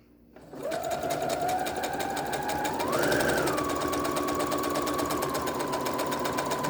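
A sewing machine runs steadily, zigzag stitching paracord onto a fabric face mask, its motor whirring close and continuous with a slight pitch rise partway through and no pauses.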